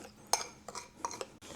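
Several light clinks and scrapes come from a utensil striking a bowl as a spice rub of pepper, paprika and salt is mixed for pork ribs, sounding as quick, irregular taps close by with no voices.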